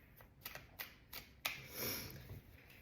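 Tarot cards shuffled by hand in a quiet room, a run of quick crisp riffling snaps and taps, close and soft, with a brief brushing slide near the end.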